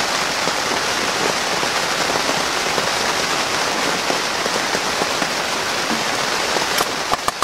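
Rain falls outdoors on a vegetable garden where tomatoes are being transplanted, a dense steady hiss of drops on surfaces, constant throughout, with a few sharper close taps near the end.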